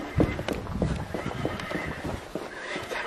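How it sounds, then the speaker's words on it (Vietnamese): A horse whinnies loudly at the start, then hooves clip-clop in an uneven run of steps at moderate distance, with the neigh fading as the footfalls continue alone. "That horse is moving."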